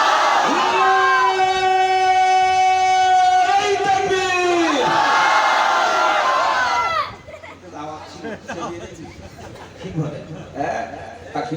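At a Bengali religious gathering, a crowd roars a loud collective takbir in unison lasting several seconds, then gives way to the speaker's amplified voice with murmuring and scattered shouts.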